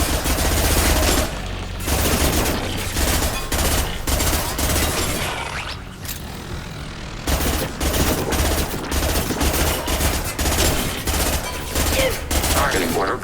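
Dense, loud automatic gunfire from a Mass Effect 2 battle, sustained bursts with a brief lull in the middle before the firing resumes, intense and close throughout.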